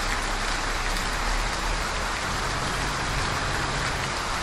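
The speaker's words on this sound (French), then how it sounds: "il pleut là, c'est une dinguerie" Heavy rain drums steadily on a truck in Euro Truck Simulator 2, a dense, unbroken hiss with no pauses and no voices.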